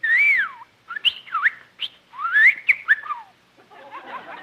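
A bird on an old radio comedy show whistles in quick melodic phrases, with rising and falling swoops and chirps that are loud and close, ending in a softer fluttery trill.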